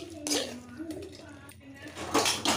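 Cooked tomato mixture for chutney is scraped and tipped into a mixer jar, with a few soft clinks and knocks of utensil against the jar, faint and close, under a voice.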